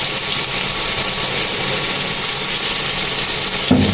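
Onions frying in hot oil in a pan after fish was fried, a loud continuous sizzle hissing steadily, ending with a short clatter.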